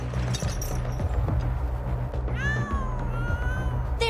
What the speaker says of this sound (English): You've no reason to keep meowing.